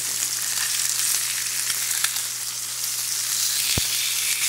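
Potato sizzling in oil in a frying pan, a steady bright crackle and hiss that stays close and even throughout, with one short sharp tone near the end and no voices.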